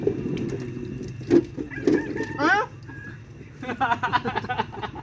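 Chickens clucking on a rural farm, several close clucks and short squawks in an uneven run, one louder burst near the middle and a busier flurry toward the end, over steady background noise.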